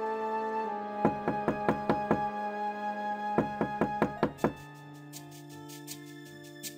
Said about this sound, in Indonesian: Aku membuka mata ketika mendengar pintu diketuk.